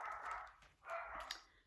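A dog barks at a squirrel, two short, faint yelps or barks in quick succession, heard from some distance in a quiet room.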